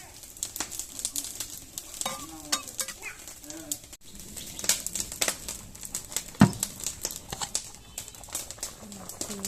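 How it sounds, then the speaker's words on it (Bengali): Water poured into a pan of sautéed spices for a Bengali singi fish curry with pointed gourd and potato, set in a village kitchen; a soft sizzle and stirring come with crinkly splashes, and faint birds call in the background. "এখন দিয়ে দেবো পরিমাণ মতো জল দিয়ে দিলাম।"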